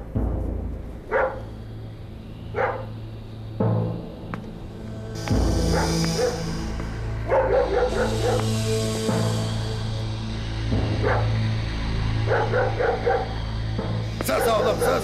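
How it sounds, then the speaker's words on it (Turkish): Dog barking and yipping outdoors on a winter night, repeated sharp barks in bursts across the clip, with people talking nearby and a gusty, windy background. "Köpek avlıyor."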